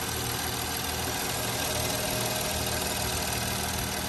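A BMW X3 35i with the N55 turbocharged six-cylinder idles cold after an aFe dryflow air filter install, a steady, close mechanical hum with a faint ticking rattle and no voices.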